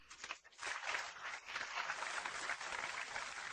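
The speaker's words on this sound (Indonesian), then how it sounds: "mari kita sambut dengan tepuk tangan yang paling meriah" A crowd at an award ceremony breaks into sustained applause, a soft, continuous wash of clapping heard faintly and at a distance, with no voices over it.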